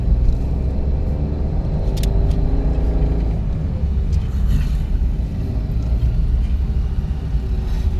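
Car engine revving steadily during a driving lesson, a loud continuous low rumble from inside the vehicle with slight rises in pitch, no one speaking over it.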